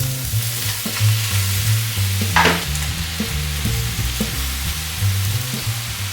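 Spinach being tossed with olive oil, salt and pepper in a hot pan gives a steady close sizzle with stirring scrapes, and one brief louder hiss partway through.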